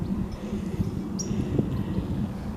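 Cold wind gusting across a garden, heard as a low rumbling buffet against the microphone that stays steady and close throughout, with one faint brief chirp and no voices.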